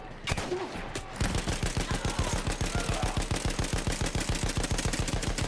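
Rapid machine-gun fire in Battlefield 1, a steady fast stream of shots running continuously after a brief pause at the start, loud and close.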